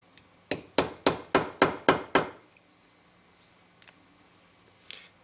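A hammer strikes a hole punch tool, set on material being cut during a brake master cylinder rebuild, with six sharp, evenly spaced metallic whacks in quick succession, then a couple of faint clicks in a quiet room.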